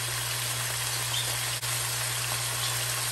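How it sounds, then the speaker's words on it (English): Rooster meat sizzling in a hot pan, a steady dense crackle with a low constant hum underneath and no talking. "So I'm kind of frying this a little bit just to get more flavor"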